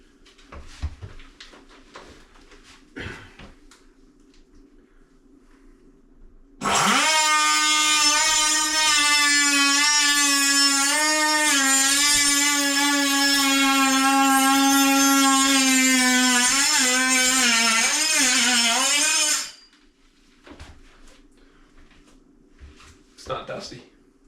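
A power tool cuts a line through a plaster and lath wall: a loud, steady high-pitched whine for about thirteen seconds that wavers slightly near the end, with quiet talk and handling noises before and after.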